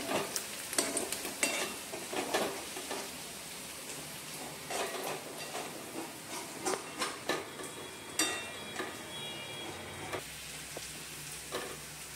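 Onions sautéing in a pan over the gas, with a soft continuous sizzle broken by close, irregular scraping stirs and clinks of a spoon.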